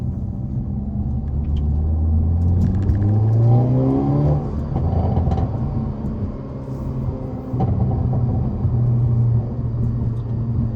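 Hyundai Elantra N in N mode with settings maxed, driven at night: a loud, steady engine and exhaust drone from inside the cabin, rising in pitch as the car accelerates and dropping on lifts, continuous with no talk.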